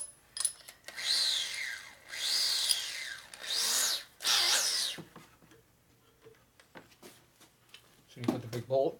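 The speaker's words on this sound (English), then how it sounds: "I'll just try to drill up into it and I'll lift up the drill when I get in further." A power drill bores into the steel frame of a rigid custom Harley chopper in repeated whining bursts with pauses between, followed by scraping handling noises and a brief final burst; someone talks in the workshop.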